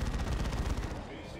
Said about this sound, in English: Assault Cannon shooting up a node from range.